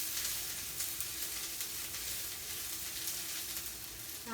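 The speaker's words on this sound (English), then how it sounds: "Just stirring up these onions." Onions frying in a pan give a continuous, even sizzle while being stirred, steady and close, with no talk.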